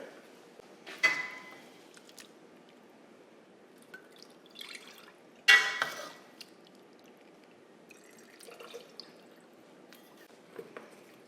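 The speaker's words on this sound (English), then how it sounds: "I want a nice, clean tallow, so I've got my nut bag and my fine mesh colander" Rendered liquid beef tallow drips and trickles through a nut bag and fine mesh colander, with a few louder splashy bursts among soft scattered drips, close by and without talk.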